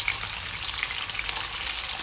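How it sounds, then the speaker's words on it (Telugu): Dried fish frying in hot oil in a home kitchen pan gives a steady, dense sizzle with fine crackles and pops, close up and continuous for about two seconds, with no voices. "ముందు ఆయిల్లో ఎండు చేప వేసుకుందాం."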